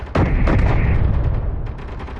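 A loud, booming blast of video game gunfire or explosive impact during a drone attack, a sharp onset followed by a long rumbling decay.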